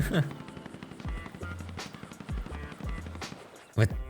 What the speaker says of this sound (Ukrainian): Хтось стріляє з боку